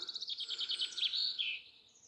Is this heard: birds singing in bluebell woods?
yes